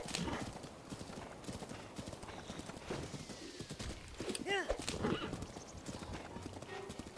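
Horse hooves gallop in a steady clip-clop rhythm in Zelda Breath of the Wild, with a loud whinny midway, while a person talks over the game sounds.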